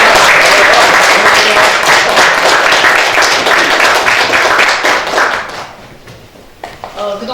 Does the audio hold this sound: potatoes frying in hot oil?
no